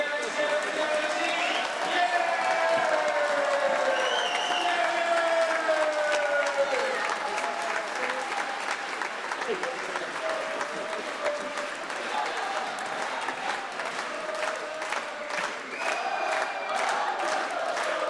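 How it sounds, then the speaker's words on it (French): A crowd gives volunteers of an association steady applause at a French gathering, with sustained clapping, cheers and shouts throughout and voices mixed in. "je pense qu'on peut les applaudir extrêmement, extrêmement fort"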